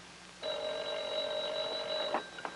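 A telephone bell rings in one long, steady burst of about two seconds, fairly close and clear with no talk, then stops abruptly and is followed by a faint click.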